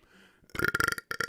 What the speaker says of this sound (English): first burp of the podcast